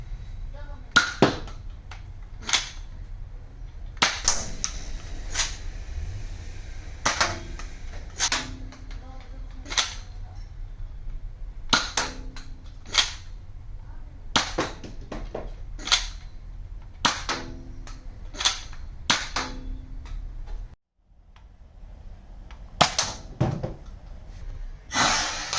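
A Nerf Alpha Strike toy blaster fires darts in a long series of sharp, close snapping shots at irregular intervals, with faint handling noise between them and a brief drop to near silence before the last few shots.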